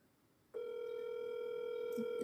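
A telephone call tone starts abruptly and holds steady as a sustained electronic tone on a phone line, loud and close, with a faint sound near the end.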